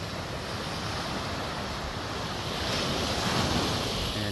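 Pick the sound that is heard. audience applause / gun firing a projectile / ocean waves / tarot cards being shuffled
ocean waves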